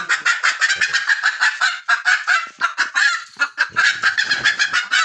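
A desi hen labouring to lay an egg squawks and clucks loudly up close in a steady, insistent series of harsh, honking calls with barely a pause.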